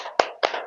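A classroom doing a rhythmic spirit clap: two sharp, close group claps about a quarter second apart, each with a brief ringing tail.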